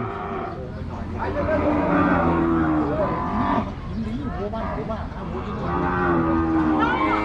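Cattle, including lean cows, low and moo repeatedly at an open cattle and buffalo market in Wang Prachop, Tak, Thailand. Several long, overlapping calls rise and fall over a steady background din.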